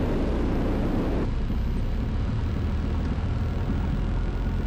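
A Zenith light airplane lands with power reduced, its engine a steady, loud drone that drops slightly in level early on and then holds even, with no voices.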